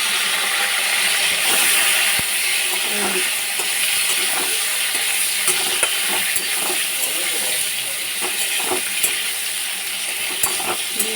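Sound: ridge gourd frying in a pan

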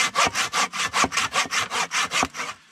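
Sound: hand saw sawing wood

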